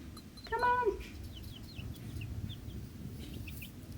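Chickens on a small farm cluck and peep at feeding time, a brief louder call near the start followed by scattered soft chirps against low background noise.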